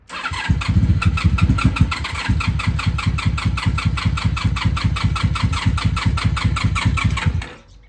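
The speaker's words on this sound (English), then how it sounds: "We're gonna start this bike and see what happens." A Honda Magna 750 (VF750C) motorcycle engine cranks and fires, settling into a loud, steady rapid idle with a regular pulsing beat before cutting out near the end.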